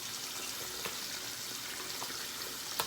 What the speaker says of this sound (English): So I'm going to put some water on while I'm talking.